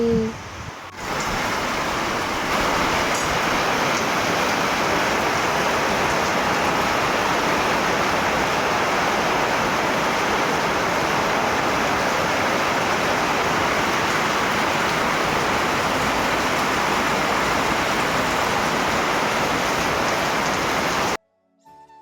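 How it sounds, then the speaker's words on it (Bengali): A sudden heavy downpour hammers down in a loud, dense roar that holds steady for about twenty seconds before cutting off abruptly. "মুসলধারে বৃষ্টি শুরু হয়ে গেছে প্রচুর বৃষ্টি পড়ছে"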